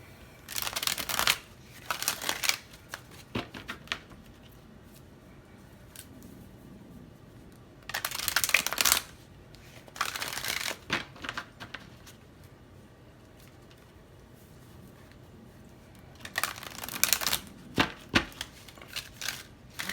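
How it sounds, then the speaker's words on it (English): A brand-new, stiff deck of cards is shuffled in several brisk riffling bursts, separated by quiet pauses, close to the listener. "this is a brand new deck. It's like very hard to shuffle."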